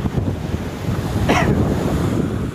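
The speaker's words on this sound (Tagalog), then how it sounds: "Sobrang lakas na ng hangin." Loud, steady wind roaring past the microphone on a fishing boat over the wash of open-water waves, with a brief hissing gust midway.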